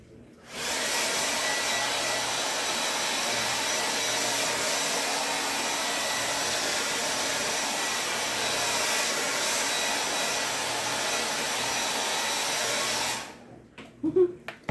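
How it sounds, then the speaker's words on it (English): A hair dryer blows steadily on a Chalk Couture craft project, a loud, even whooshing roar lasting about twelve seconds before it cuts off, followed by a few faint handling clatters. "So now I am going to blow dry this really quick."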